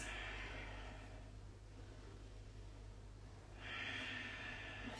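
Slow, deep breaths taken in yoga child's pose during a home session: a faint, airy inhale-exhale at the start and another near the end, separated by quiet, over a low steady hum.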